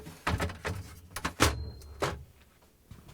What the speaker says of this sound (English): Now the crisper drawer cover goes in.